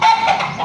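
A frightened chicken clucks and squawks close by in one brief, loud, strained burst.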